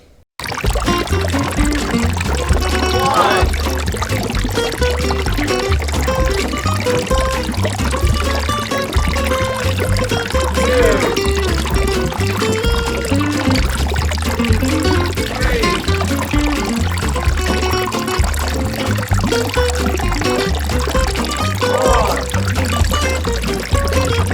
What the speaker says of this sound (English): I'm gonna get the water in this thing